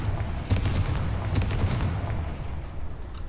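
Booming blasts from the Confringo fire spell in the Hogwarts Legacy video game, a dense run of heavy rumbling explosions with several sharp hits, loud and continuous before thinning out near the end.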